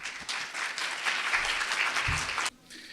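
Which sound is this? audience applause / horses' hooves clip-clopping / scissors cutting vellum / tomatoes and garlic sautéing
audience applause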